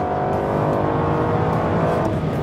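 A 2011 Aston Martin Virage drives on a dry track, its engine a loud, close, continuous roar with rising harmonics and a throttle blip on the downshift.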